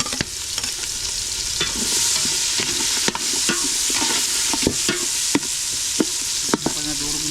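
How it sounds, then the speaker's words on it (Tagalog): Chopped onion and garlic sizzling in a hot pan with steady frying hiss, broken by sharp scraping clicks of a utensil stirring against the metal every second or so. "Mga karabas, ilagay na natin tong ating sibuyas at bawang."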